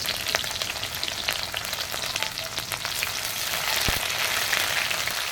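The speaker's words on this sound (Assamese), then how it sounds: "এতিয়া প্ৰথমতে পিঁয়াজ দি লৈছোঁ, অকণমান ৰঙচুৱা হৈ যোৱালৈকে ভাজি লৈছোঁ" Chopped onions fry in a pan with a steady, crackling sizzle and occasional sharp pops, close by and with no one talking.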